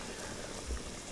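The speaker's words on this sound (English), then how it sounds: "now I'm going to pour in some white wine" White wine poured into a pot of tomatoes for a shrimp cream sauce: a brief, soft, steady splashing rush of liquid that swells slightly near the end.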